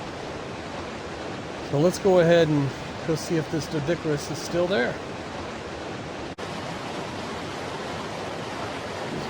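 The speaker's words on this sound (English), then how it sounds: "this waterfall over here is just way too loud" A loud waterfall near a player's base in the video game Ark Survival Evolved roars as a steady, unbroken wash of broadband noise throughout, with someone speaking over it for a few seconds.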